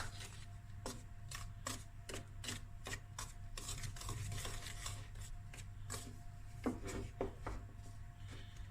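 Icing sugar being mixed with a spoon for Cape Malay biscuits, giving a regular series of soft, close rubbing scrapes against a bowl, steady and unhurried over a low background hum.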